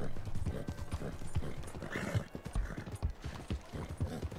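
Horse hooves clip-clop on a city street in Saint-Denis in the Red Dead Redemption II video game, a steady rhythmic trot mixed with game ambience and a brief whinny.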